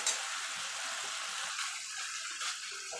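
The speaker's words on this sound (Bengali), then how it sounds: "আদা রসুনের কাঁচা গন্ধ যাওয়া পর্যন্ত কষিয়ে নেব" Tomato, ginger and garlic frying in hot oil with spices: a steady, close, hissing sizzle that carries on without a break.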